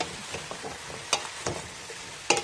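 Pumpkin being stirred into sautéed onion, garlic and carrots in a pan, a steady close sizzle broken by several scraping knocks of the utensil, with no talking.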